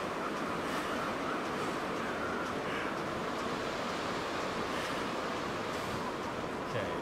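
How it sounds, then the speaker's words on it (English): Strong wind blows across a snowy wilderness in The Long Dark survival game, a constant loud roaring rush that fills the whole stretch without a break. "And it's super windy."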